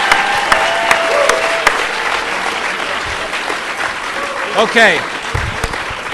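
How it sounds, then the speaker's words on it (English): A debate audience on naturopathic medicine claps steadily and loudly throughout, a dense close wash of hands with a voice briefly speaking over it. "I'm going to ask you all to clap."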